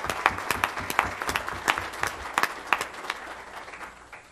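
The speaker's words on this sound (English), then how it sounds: "So let's give them a round of applause." Audience applause at an IGRA gay rodeo association convention in Denver: a crowd claps with sharp individual claps standing out, steady at first and then thinning and fading toward the end.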